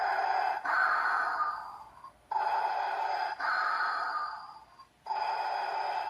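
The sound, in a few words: heavy breathing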